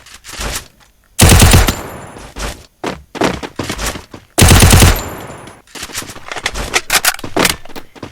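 Loud, close bursts of automatic gunfire from the video game Free Fire crack out in several rapid volleys, separated by shorter single shots and brief quiet gaps.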